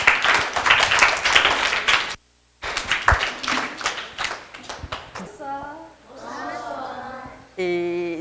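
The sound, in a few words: applause for children at Christmas dinner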